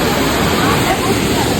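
Joggins Falls waterfall in Victoria Park, Truro, pours with a loud, dense, steady broadband rush that fills the whole moment, close and unbroken.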